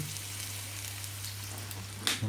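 Onions frying in a little oil in a pan for a borscht-style soup, a steady close sizzle with a low hum underneath and a brief clatter near the end.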